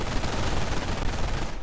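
An MG-42 machine gun fires in a video game, one dense, unbroken burst of rapid rattling shots that stays loud and close for the whole short stretch.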